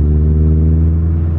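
A Honda Civic Estilo with a B18C engine pulls hard under full throttle, a loud, close, steady mechanical drone with a strong low growl and even harmonics, heard from inside the car.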